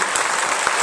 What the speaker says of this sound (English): please give a massive round of applause to our Manga UK